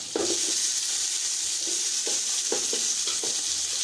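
Tomatoes hit a hot pan for a South Indian sambhar rice, giving a steady loud sizzle with soft scraping stir strokes repeating every half second or so, with no talk over it.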